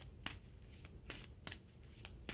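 Tarot cards being shuffled by hand, a series of crisp, quiet riffles and snaps at an uneven rhythm, close and alone with no talking.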